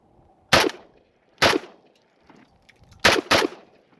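Four sharp rifle shots from a Century Arms VSKA AK-47 crack out in an uneven rhythm, with two spaced single shots, then a quick close pair. The shots are loud and near, with short decays into quiet between them.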